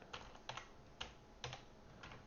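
Keys clatter on a computer keyboard in short, irregular bursts of clicks, fairly quiet and close, with no talking.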